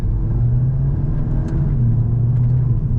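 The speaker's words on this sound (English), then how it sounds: "You can hear the turbo whistling and sneezing in the background." A turbocharged car engine runs with a steady, loud low rumble throughout, with a couple of faint, brief high whistles or hisses above it.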